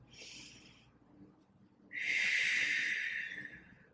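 Two deep breaths during a Pilates core exercise, one shorter airy intake followed after a pause by a longer, louder, hissing exhale close to the mic.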